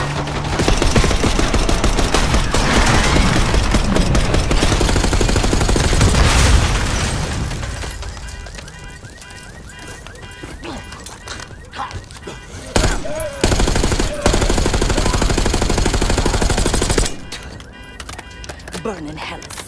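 Heavy automatic gunfire and booming blasts roar through a video-game street shootout, loud and continuous at first, then thinning to scattered shots and bursts while characters talk and shout throughout.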